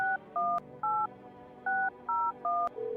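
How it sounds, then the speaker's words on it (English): Telephone keypad dialing in the video game No, I'm Not A Human: seven crisp dual-tone beeps in an even, quick rhythm, clear and close, then a steady ringing tone begins. "Alright, we can phone for Forrest again."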